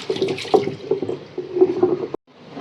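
Tap water runs and splashes close by as fish is washed in a kitchen sink for a Hogenakkal-style fish curry. The flow stops abruptly near the end.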